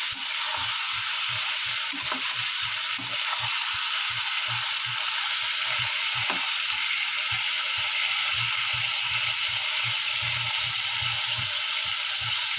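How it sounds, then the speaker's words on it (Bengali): Shrimp stir-frying with taro and Malabar spinach. A steady, fairly loud sizzle hisses throughout, with soft, regular low thumps of stirring beneath it. "ভালো করে কষিয়ে নিচ্ছি।"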